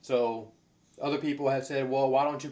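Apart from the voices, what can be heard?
No everyday noise stands out behind the speech.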